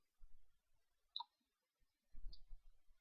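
A computer mouse gives a couple of crisp, isolated clicks against a quiet room, with faint soft handling noise in between.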